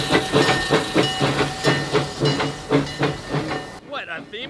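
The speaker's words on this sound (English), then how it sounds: "What, a theme park with a working train system in Florida?" A theme park train at Busch Gardens Tampa chuffs along in loud, rhythmic steam puffs with hissing and rail clatter, then cuts off abruptly near the end as a voice starts.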